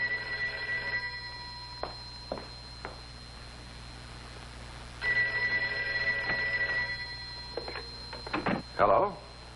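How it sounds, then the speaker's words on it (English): An indoor telephone bell rings in two separate bursts, with a quieter pause between them and a short voice near the end. "The phone."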